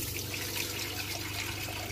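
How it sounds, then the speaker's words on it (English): Water pump running in a converted cargo trailer with water flowing from a newly mounted faucet, a steady faint hum under continuous splashing from the tap. "Yeah, the pump's working."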